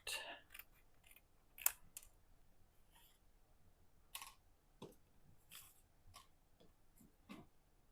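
Scissors snip paper in quiet, irregular clicks and short cuts, close and isolated against near silence.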